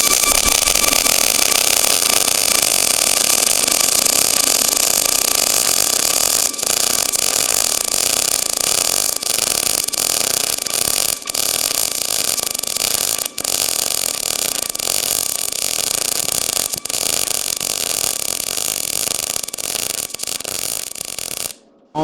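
Steady, loud buzzing crackle of MIG welding on 1/8 inch steel plate with a YesWelder MIG205DS, an unbroken run of about twenty seconds with only brief dips before it stops at the end.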